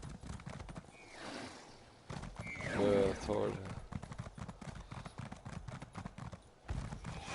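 Horse hooves clip-clop in Elder Scrolls Online, a steady rhythmic trotting that runs under ongoing conversation, with a brief whinny-like burst near the middle.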